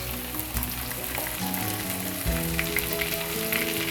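Shrimp and onion frying together in a pan for a Bengali shrimp and courgette dish, a loud, continuous crackling sizzle heard close and alone.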